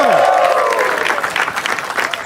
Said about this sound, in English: Can we have a louder round of applause for Suhasini?